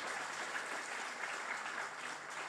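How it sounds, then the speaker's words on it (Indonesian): An audience at a talk forum with Mas Sabrang claps together in a sustained round of applause, a steady, dense patter of many hands at moderate volume across the whole moment, with no speech over it. "tepuk tangan untuk Mas Abrang"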